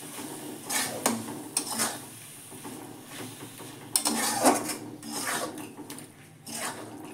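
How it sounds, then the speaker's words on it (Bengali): A spoon scrapes and knocks against a pan while stirring mashed eggplant bharta seasoned with roasted mace powder and a few drops of rose water, giving several irregular clinks and rubbing scrapes, close and moderately loud. "এবার একটু নেড়ে নেব আমি।"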